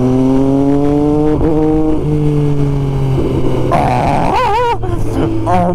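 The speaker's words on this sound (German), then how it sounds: "Wenn man das Gas stehen lässt und den Quickshifter benutzt." Sport motorcycle accelerating hard at full throttle, its engine note climbing through gears with quick upshifts from a quickshifter; loud and close, with a rising, warbling pitch toward the end.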